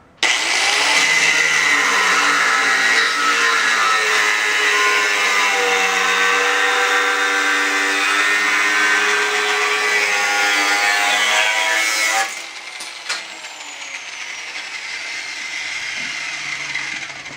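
A Ryobi 4.5 inch angle grinder fitted with a thin Harbor Freight cutoff wheel cuts through a thick old brake drum from a Datsun 521, giving a loud, close, steady whine for about twelve seconds before dropping to a quieter spin-down.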